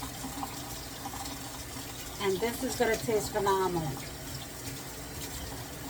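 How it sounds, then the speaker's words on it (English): Tap water runs steadily over an octopus being cleaned for an octopus salad, a continuous close splashing stream that swells midway while someone talks over it. "it comes off very quickly underneath the running water"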